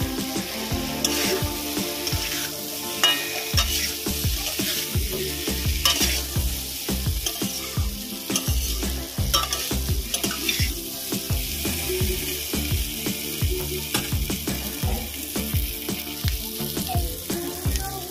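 Fried potatoes and taro being sautéed in spice paste, a constant sizzle broken by frequent rhythmic scraping and stirring knocks of a spoon against the pan, close up and without speech.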